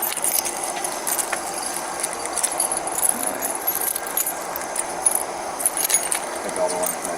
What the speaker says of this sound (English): These my house keys.